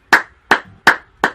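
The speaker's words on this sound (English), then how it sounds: "There's real life human clapping." Four sharp hand claps at even, unhurried spacing, close and clear with nothing else around them, sounding out after songs at an at-home live music performance.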